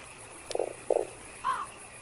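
A toad in the video game Fran Bow croaks in short, throaty bursts, two quick rattling calls followed by a smoother one. The calls are moderately loud over a low, steady game background.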